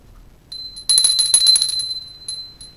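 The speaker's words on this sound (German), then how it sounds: "Hörst du nicht die Glocken?" Bells ring faintly in the distance with a thin, steady high tone, swelling briefly in the middle and then fading back, with no talking over them.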